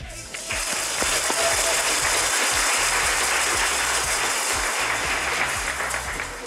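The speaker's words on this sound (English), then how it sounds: "congratulations from our virtual cheering section" Dense applause from a virtual cheering section at a business awards ceremony fills the span, loud and continuous clapping that swells in quickly and holds steady before tapering slightly at the end.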